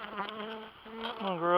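Honeybees buzz around a hive as it is being moved, a close, steady insect drone with wavering pitch that swells louder toward the end, no speech.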